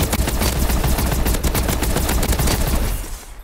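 Rapid automatic gunfire from a weapon switched to shotgun mode in Call of Duty: Advanced Warfare, a loud, dense stream of close shots lasting about three seconds before cutting off abruptly.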